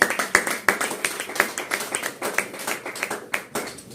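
A church congregation claps during a sermon, a sparse, uneven patter of individual claps from a modest group, moderately distant and fairly soft, with no talking over it.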